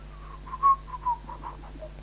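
A lone person whistles a melody as a string of short, wavering notes heard close and fairly soft over a steady low hum.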